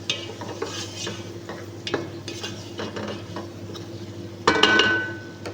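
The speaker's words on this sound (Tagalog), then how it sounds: "Ayan, at pagkatapos po niyan ay haluin ulit. Ayan, haluin lang natin." Chicken pulao with garam masala and black pepper stirred in a pot, spoon scraping and clinking against the metal with a soft sizzle, and a louder scrape near the end.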